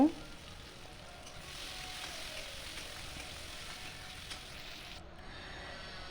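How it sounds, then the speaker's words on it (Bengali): Garlic and chopped onion fry in oil with cinnamon and cardamom, making a soft, steady hiss of sizzling that continues evenly throughout at low volume. "এর মধ্যে এবার রসুন এবং পেঁয়াজ কুচিটা দিয়ে দেব। এগুলোকে 1 মিনিট সময় নিয়ে ভেজে নেব।"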